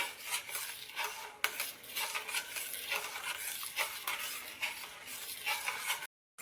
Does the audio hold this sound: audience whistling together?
no